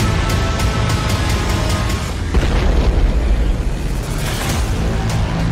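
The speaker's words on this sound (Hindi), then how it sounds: "रूस की मिसाइल एक चलती कार के ठीक सामने आकर गिरी।" A Russian missile blasts onto a road among moving cars, a heavy, rumbling roar of explosion with sustained, crackling debris noise and a fresh surge of booming partway through, no voices.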